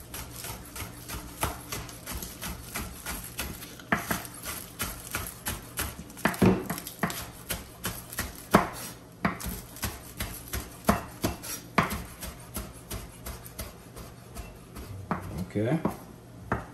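A knife chops scallion on a board in a quick, steady run of close, crisp taps that keeps going without a break, with a voice talking faintly at times beneath it.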